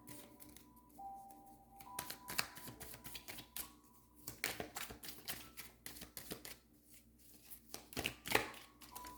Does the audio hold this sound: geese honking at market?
no